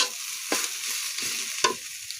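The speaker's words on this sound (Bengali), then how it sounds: "এই যে আমার শাক ভাজা হয়ে আসছে।" Radish greens sizzling steadily in a frying pan, with two distinct scraping stir strokes cutting through the hiss.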